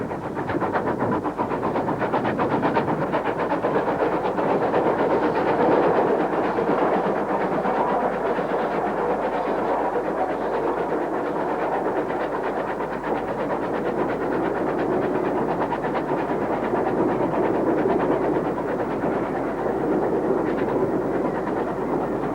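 A Southern Railway Lord Nelson class steam locomotive runs past with a steady, continuous rumble and rhythmic chuffing that holds at an even loudness for over twenty seconds, with no voices.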